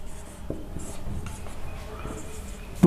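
Marker or chalk writing accounting entries on a board in a classroom, soft scratchy strokes in short runs at moderate volume, with a sharper knock near the end.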